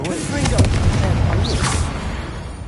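Incendio fire spell bursting in Hogwarts Legacy, a deep booming blast with crackling fiery whooshes and game sound effects, briefly accompanied by a spoken voice.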